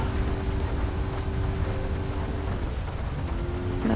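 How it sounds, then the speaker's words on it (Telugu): Heavy rain pours in a modded Grand Theft Auto game, a dense, steady hiss running the whole time beneath a faint, even engine-like hum, with no voices. "అండ్ రెయిన్ అయితే చాలా ఉంది, గట్టిగా పడుతుంది వర్షం."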